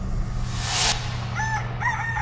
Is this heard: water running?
no